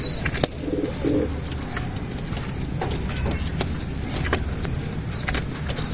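A young racing pigeon coos softly at a loft, low murmuring calls beneath steady background hum, with a brief mechanical whir and faint distant traffic.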